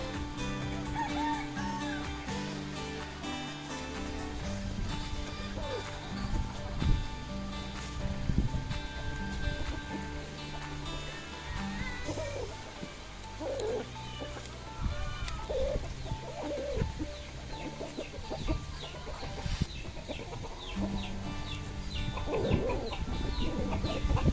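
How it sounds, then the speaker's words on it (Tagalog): A flock of chickens on a countryside farm clucks and calls continuously, with overlapping bird sounds at varied distances and a little background talk. "Makikita nyo yung mga manok ni Bords."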